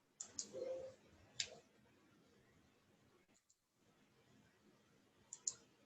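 A computer mouse gives a handful of sharp, close clicks, two early and a pair near the end, separated by quiet room tone during a spreadsheet lesson on a computer.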